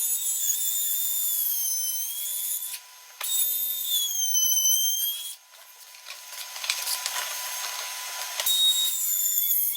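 Router cutting a wooden worktop around a sink cutout, bearing following the basin, a high whining motor with grinding cut noise, stopping briefly twice and restarting, loud and close.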